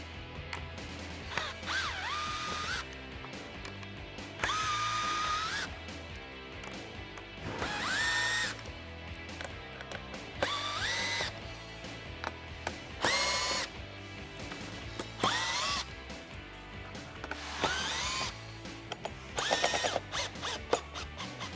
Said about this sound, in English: I recommend using a drill because it's gonna be much faster.